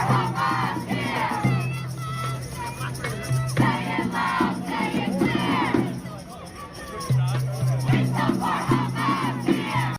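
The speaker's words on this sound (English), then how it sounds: "So that's them directly chanting support for a terrorist organization in a predominantly Jewish community" A street crowd chants pro-Hamas slogans, loud rhythmic shouted chanting in repeated phrases with pauses between, close and crowded.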